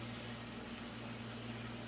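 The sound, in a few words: chicken and eggplant starting to sizzle in pan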